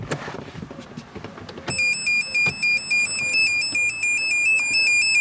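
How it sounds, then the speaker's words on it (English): Rapid, regular electronic beeping from a car's lights-on warning buzzer starts suddenly after some low background noise and keeps repeating steadily. "there's a buzzer beeping"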